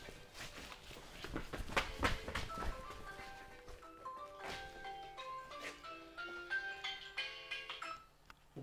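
A business phone rings with a repeating melodic electronic ringtone, its tones steady and clear after a few seconds of background clatter, at a winery.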